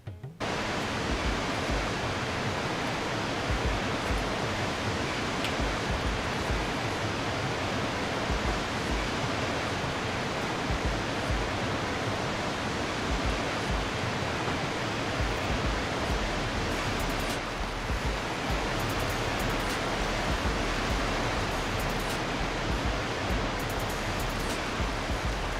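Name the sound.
waterfall in video game Farming Simulator 22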